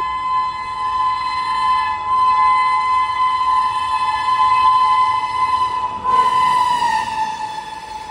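The Kolkata to Agartala Humsafar Express rumbles past with a loud, sustained horn blaring throughout, the pitch dipping briefly as it draws near.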